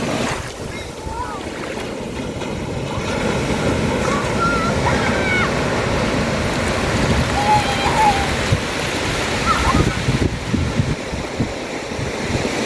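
Ocean waves wash in at Hellfire Bay beach in Cape Le Grand, Western Australia, a steady broadband surf roar with gusty wind buffeting the microphone throughout.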